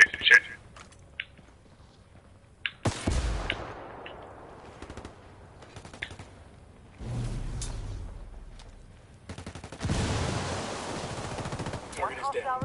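Gunfire in the video game Ghost Recon Wildlands comes as scattered shots and sharp bursts, including a longer rattling stretch near the end, between quieter gaps with voices talking.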